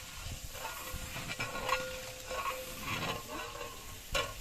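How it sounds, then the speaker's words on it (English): Chopped onions sizzle in very hot oil inside a large pot while a spoon scrapes and stirs them, giving a steady frying hiss with intermittent scraping strokes and a sharper clack near the end. "so now the onions have been put in and they will be mixed around so they do not burn"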